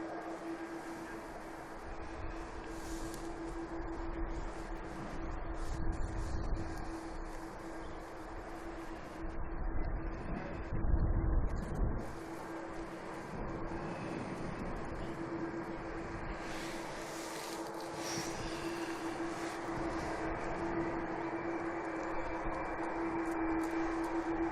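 Distant jet engine whine from an Aer Lingus airliner taxiing at Manchester Airport, a steady tonal hum over broad rumbling noise that swells and eases throughout, heard from afar without talk.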